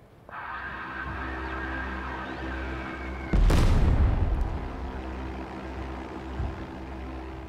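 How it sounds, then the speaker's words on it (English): A dive bomber attack in the wartime strategy game Total Tank General, a steady low engine drone broken by one loud, deep explosion boom midway that slowly fades back into the hum. "And we'll dive bomb here."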